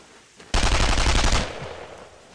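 Sustained burst of automatic gunfire from the World War II shooter Brothers in Arms: Road to Hill 30, a loud dense rattle lasting about a second, then fading into a lingering tail.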